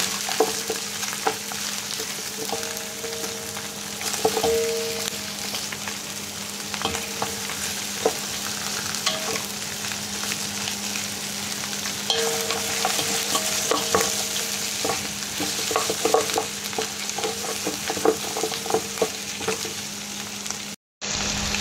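Chunks of pork pata sizzle steadily in a hot pan as a spoon or spatula stirs them, with repeated scraping clatters over the constant frying hiss, loud and close.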